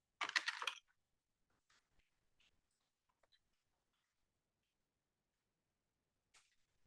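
A computer keyboard is typed on at a Linux shell, with a quick burst of close, crisp keystrokes at the start, then scattered single taps and a brief pair near the end, quiet in between.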